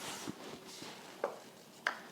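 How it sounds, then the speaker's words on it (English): Herbs are chopped with a knife on a cutting board, giving a few faint, sparse cuts and taps in a quiet kitchen setting. "Well, let's get chopping here. All right. I'm going to start with my herbs."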